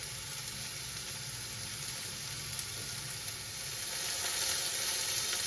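A burger patty for a patty melt sizzles steadily in a pan on medium heat, a dense, even crackling hiss that grows slightly louder toward the end, with no talking.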